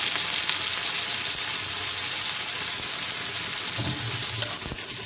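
Chillies and tomatoes sizzle steadily in hot oil for a spinach vegetable dish, a dense, continuous crackle that stays loud and close throughout, with a few brief stirring knocks near the end.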